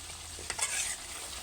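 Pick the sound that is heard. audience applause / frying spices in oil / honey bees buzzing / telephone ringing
frying spices in oil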